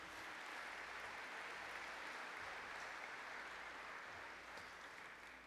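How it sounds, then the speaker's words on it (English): Steady, broad applause from a large audience at the Camosun College 2024 convocation ceremony, dense and continuous for several seconds and easing slightly at the very end, with no talking over it. "and you can applaud to that."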